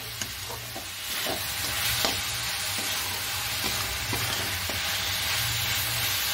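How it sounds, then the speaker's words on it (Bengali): Crushed patali jaggery is stirred in a wok, with a steady soft sizzle and repeated scraping strokes of the spoon at an even rhythm, close and fairly loud, with no talk. "আর এই কনস্ট্যান্ট নাড়তে হবে।"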